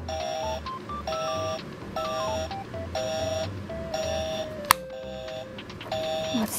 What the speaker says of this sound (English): It's a Hello Kitty cell phone.